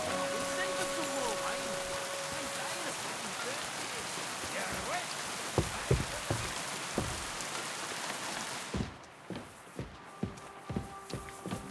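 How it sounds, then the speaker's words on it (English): Steady rain in the video game Kingdom Come: Deliverance II patters on surfaces with occasional sharp thuds and footsteps; the downpour drops off partway through, leaving scattered knocks. "It'd be better if it wasn't raining."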